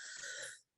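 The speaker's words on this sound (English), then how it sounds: "I'm just getting over a bit of a cough" A single short, breathy cough from a person recovering from a cough, close and brief, trailing off into silence.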